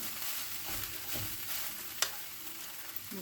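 Pancit noodles with vegetables being stirred in a hot pan, a soft steady sizzle with scraping and clinking from the utensil, including one sharp tap near the middle.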